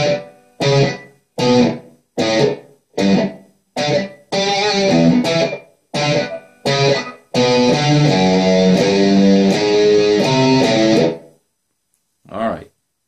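A distorted electric guitar plays the funky walking bass line of an organ solo, with a run of short choppy stabs followed by longer held phrases, close and unaccompanied.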